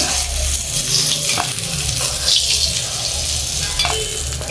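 Pangas fish pieces frying in oil, a loud continuous close sizzle and crackle with occasional faint clinks, no voices.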